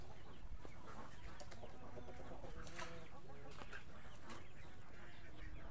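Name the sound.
hen clucking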